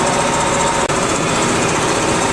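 A tractor-driven undertree orchard finishing mower cuts through long grass, giving a steady, loud broadband engine and blade roar that holds constant throughout with only a momentary dip.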